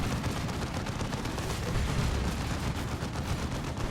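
Sustained dense gunfire in a Warhammer tabletop-style video game, with shots aimed at a Dreadnought: a continuous loud crackling barrage of rapid shots that fills the whole stretch without pause.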